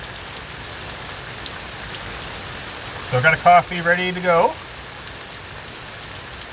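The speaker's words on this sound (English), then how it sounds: "Just kind of sitting back watching the rain for a little bit." Rain patters steadily outside a cave during Hurricane Dorian, a soft constant hiss of drops under a brief spoken remark.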